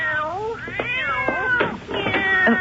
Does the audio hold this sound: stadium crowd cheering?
no